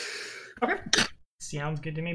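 One short, sharp sneeze cuts in between relaxed remarks during a tabletop wargame session, followed by a person speaking casually.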